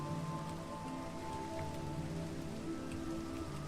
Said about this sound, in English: how well the sound of rain goes with all of it